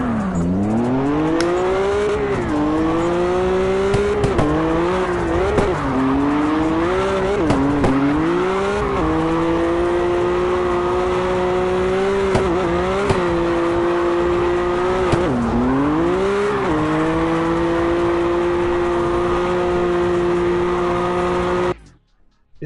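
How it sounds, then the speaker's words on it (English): Engine of a race car in the CarX racing video game, loud and continuous, rising and falling as it revs and shifts gears through the run, with tire squeal at times, then cutting off abruptly at the end. "Is the car so noisy?"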